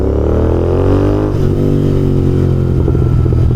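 A VW Polo engine revs hard close by, its loud, continuous tone rising and falling, then breaking into crackling exhaust pops as the revs drop.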